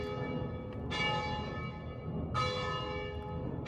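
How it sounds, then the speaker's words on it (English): Church bells ring out in Venice, two loud, clear strikes spaced about a second and a half apart, each ringing on with a long fading tone over a murmur of city background. "In Venice, these bells went off morning, noon, and night."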